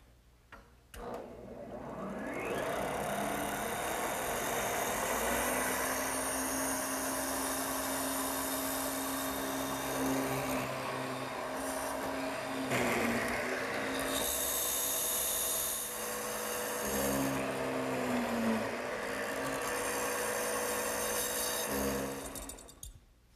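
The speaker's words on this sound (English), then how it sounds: "I've also set the depth of the drill press so that I end up with about a 3/4 inch deep mortise" A drill press plunges repeatedly into a wooden leg to cut a 3/4 inch deep mortise, its motor whining and bit grinding through the wood in several long loud passes with short pauses between plunges.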